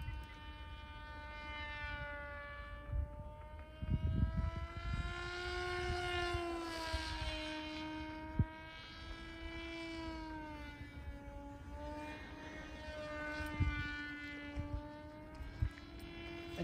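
A Crash Test Hobbies Widowmaker RC plane flies at half throttle, its electric motor whining steadily and rising and falling in pitch as it passes, fairly faint, with wind noise and no talk.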